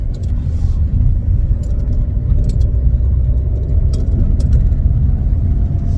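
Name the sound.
car engine running after being brought out of storage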